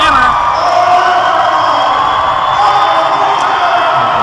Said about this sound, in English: That gets the crowd livened up.